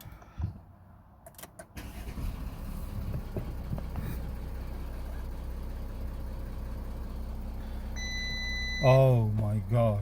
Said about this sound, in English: And now I'm going to start the vehicle and see if the alternator can produce